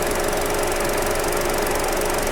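The 1.5-litre gasoline engine of a 2024 Hyundai Stargazer MPV runs steadily at idle, heard up close as a continuous, even mechanical hum with a fine ticking texture and no voices.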